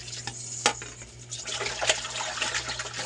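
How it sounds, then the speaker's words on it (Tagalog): Fresh pork rinsed under running water in a kitchen, a close splashing and trickling with a couple of sharp clinks against the bowl, steady and unaccompanied by talk. "Hugasan lang natin dalawang hugas."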